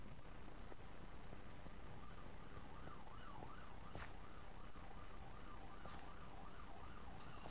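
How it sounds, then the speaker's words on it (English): An emergency vehicle siren wails outside in a steady rising and falling pattern over constant background noise, sounding moderately distant and continuing for the whole stretch. "they turned off the siren"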